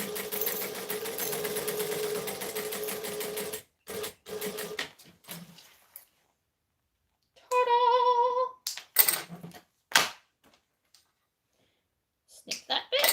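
A sewing machine stitches a seam on a wallet, running in a rapid mechanical rattle for several seconds, then in shorter stop-start bursts separated by silences, close and clear.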